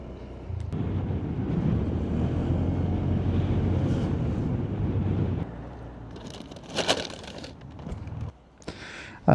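Strong wind buffets the microphone outdoors, a loud, steady rumbling roar that drops off partway through, followed by softer gusts and scattered rustling.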